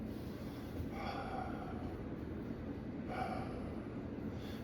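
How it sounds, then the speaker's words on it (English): A noisy breath out during meditation, two forceful, hissing nasal exhalations about two seconds apart over a steady background hum. "The point was to make a noise when you breathe out."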